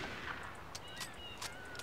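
Gunshots in the Mafia video game: a few faint, sharp cracks spaced about half a second apart, set against a low background hum.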